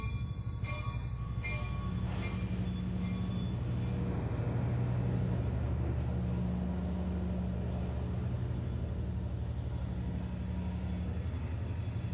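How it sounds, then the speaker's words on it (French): A Long Island Rail Road diesel locomotive pulls a train of C3 bi-level coaches away from a platform toward Montauk, heavy low engine rumble and rolling wheel noise building steadily and loud, with faint squeals early on. "La locomotive 413 démarre, emmenant le train 4 vers Montauk."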